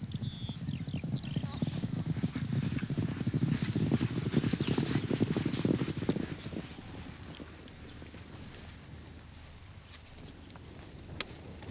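A grey horse clip-clops at a steady walk, the hooves loud and close for the first six seconds before dropping off to a quieter background, with voices talking faintly at times.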